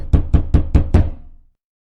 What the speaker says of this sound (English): Suddenly, a series of knocks startled us awake.